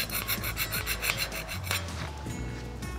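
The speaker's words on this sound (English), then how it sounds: "using a stiff wire brush, go over the whole gate, removing as much of the flaking paint and rusty surface as possible" A stiff wire brush scrubs flaking paint and rust off a metal gate in quick, rhythmic rasping strokes, close and fairly quiet, slowing near the end; no voices.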